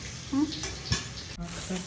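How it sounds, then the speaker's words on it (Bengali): Potatoes frying in a pan in a home kitchen give a low, steady sizzle, with a few stirring clinks and brief bumps, and a voice talks faintly nearby. "এখন ভাজাভুজি চলছে, ভাজাভুজি হোক"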